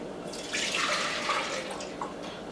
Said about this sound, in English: we're going to add 2 cups of water